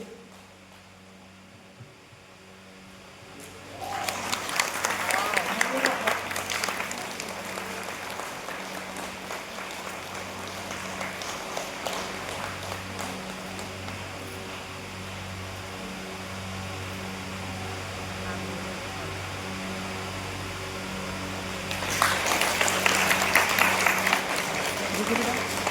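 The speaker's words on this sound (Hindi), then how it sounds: "जोर से तालियां बजाइए।" An audience at a yoga demonstration breaks into loud applause, with a burst of clapping early on, a quieter stretch under a steady hum, and then a second strong round of clapping near the end.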